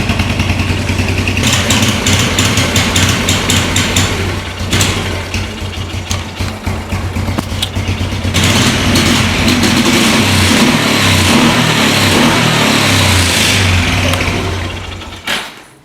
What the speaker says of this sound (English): Yeah, it runs real good once you get past that quarter throttle stutter.